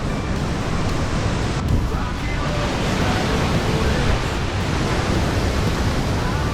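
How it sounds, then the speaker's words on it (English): The 30-foot Alberta Falls in Colorado, a steady, dense roar of rushing water that stays unbroken and fairly loud throughout with no voices. "you get to see a 30-foot waterfall."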